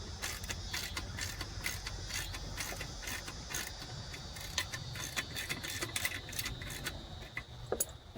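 Ratcheting and clicking of a wrench snugging a bolt on the strap of a Pittsburgh 450 lb low-profile transmission jack, a rapid run of close metallic ticks over steady background hum.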